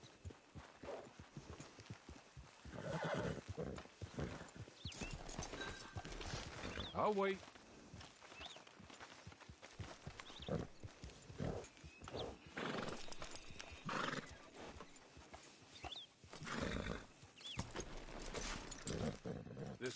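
Horse in Red Dead Redemption 2 clip-clopping along at a steady pace with occasional snorts and whinnies, mixed under game dialogue and ambient outdoor sound; a short spoken line cuts in partway.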